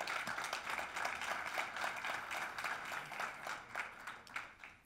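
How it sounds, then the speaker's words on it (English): A conference audience applauds with steady, dense clapping that carries on throughout, heard from a distance rather than close up. "So give a warm applause to Juan Luis."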